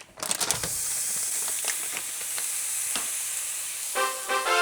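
Beef thrown onto a hot pan sizzles and hisses loudly and continuously, with a few spattering pops and crackles and a brief bubbling burst near the end, and no voices.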